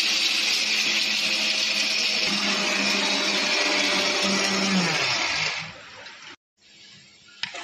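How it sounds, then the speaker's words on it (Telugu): A mixer grinder whirs loudly and steadily while grinding cashews and almonds into powder, its pitch dropping slightly midway before it winds down and stops near the end, followed by a faint clatter. "ఇది కాజు బాదం పౌడర్ చేసేది."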